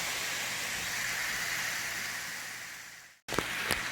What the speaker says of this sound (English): and your onions and your garlic. I put that in. Saute all this stuff up together.